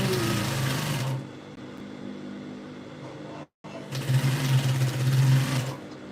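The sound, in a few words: sewing machine stitching around a blouse peplum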